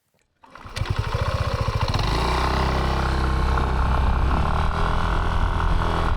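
A Yamaha NMAX 155 scooter from 2025 starts up and pulls away through city streets, its small engine pulsing quickly and then settling into a steady, loud drone that stays close throughout.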